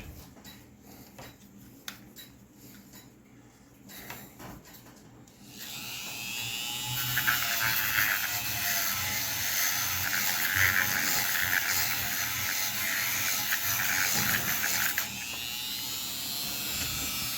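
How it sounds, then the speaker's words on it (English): A rotary tool fitted with a wire brush whirs steadily as it scrubs the threads of a battery-operated clock part, a loud continuous buzzing that starts after a few seconds of quiet clicking and runs for about ten seconds before easing off. "I'm just gonna take my rotary tool with wire brush on it, just to clean off the threads"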